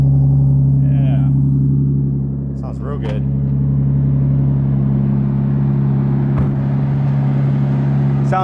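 A boosted Nissan Skyline R34 drift car sits idling with a steady low engine drone and a slight dip and rise in revs, close by, while people talk over it.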